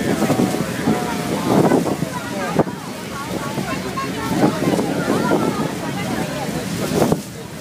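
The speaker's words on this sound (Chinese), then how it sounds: "这边大瀑布来了" A heavy, continuous roar from Niagara Falls, heard from a boat, is mixed with rushing water and buffeting wind on the microphone. Excited voices talk and shout over the noise.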